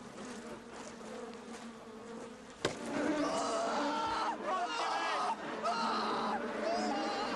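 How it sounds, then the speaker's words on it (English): Bees swarm around a beehive at Snoqualmie Falls, a busy buzzing hum with individual insects zipping past close by, punctuated by a sharp knock partway through. "It's a beehive."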